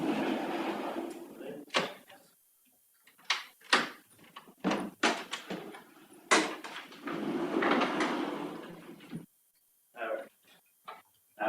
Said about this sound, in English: Hold on, let me close some doors here.